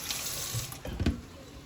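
A kitchen faucet runs steadily into a sink while okra is rinsed under it, the stream shifting and splashing a bit more for a moment partway through.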